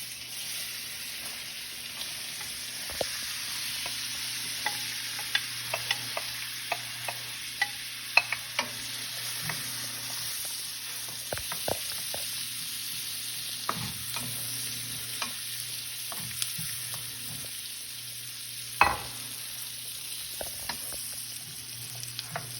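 Celery sweats in a pan on the stove, a soft, steady low sizzle with occasional faint stirring clicks and scrapes, quiet and continuous without any talk.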